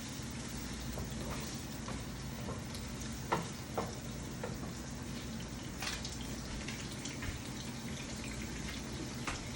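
Onions sizzle and fry in a pot as the base for a hearty beef stew, a steady dense hiss with occasional clinks and stirring scrapes, no talking.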